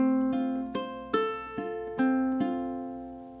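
A ukulele plays a short etude measure of about seven plucked notes with hammer-ons and pull-offs, ringing close and clear in an even rhythm with no voices.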